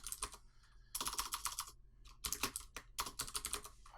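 Rapid bursts of typing on a computer keyboard, close and clear, with clustered keystrokes broken by short pauses and no talking.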